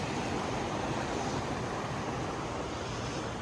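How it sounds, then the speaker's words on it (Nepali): A stream flowing along a hiking trail in Blue Gum Walk, Hornsby, heard as a steady, even rush of water that fills the whole moment without pause, with no talk over it. "यो चाहिँ हाम्रो नेपालको खोला जस्तै छ चट्ट"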